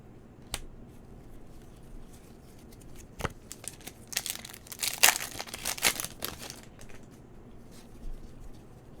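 Foil wrappers of 2019 Panini NFL booster card packs being torn open and crinkled up close, scattered light rustles building to a dense burst of crackling in the middle before easing off.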